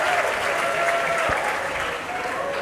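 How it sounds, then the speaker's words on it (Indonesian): An audience at a youth talk on Javanese women's philosophy applauds the moderator, a steady wash of clapping from a modest crowd, moderately loud and sustained with faint voices underneath. "tepuk tangan buat Mbak Moderator."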